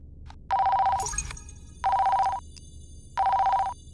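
A video game telephone called John Phone rings in three even electronic bursts with pauses between them, and a brief clatter of game sounds comes after the first ring.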